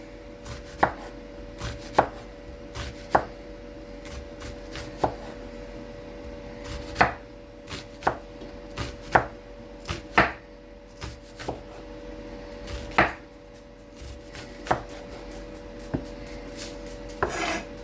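Red onion being sliced for a salad with a knife on a cutting board, firm, close chops landing in an uneven rhythm of single and paired strokes over a faint steady hum, with no voices.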